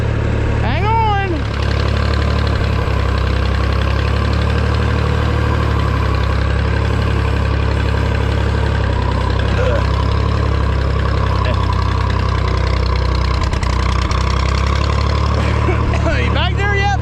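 A Massey Ferguson 135 tractor engine idles loud and close in low gear, a steady low rumble running throughout with a few squeaks near the start and end.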